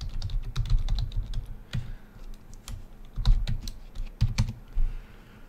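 Close, continuous typing on a computer keyboard, irregular clusters of quick key clacks with brief pauses and a few louder strikes, heard alone without speech.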